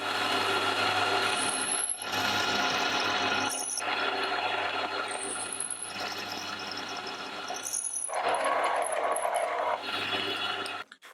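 A milling cutter chatters as it cuts a channel in the head of a spring winder tool made from a Hemingway kit. The grinding, rasping cut runs close and steady, broken by short pauses, over a low machine hum.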